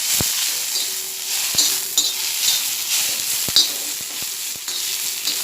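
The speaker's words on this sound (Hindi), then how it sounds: "अब मैं थोड़ी कोतंबीर गरम करके लेती हूँ।" Coriander leaves sizzle as they heat in a pan, a constant bright crackle broken by sharp clinks of a spoon stirring against the metal, close and clear with no talk.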